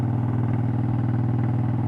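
Exhaust of a Triumph Speedmaster cruiser motorcycle rumbles in a steady, loud, close-up drone with a low throbbing pulse, with no talking.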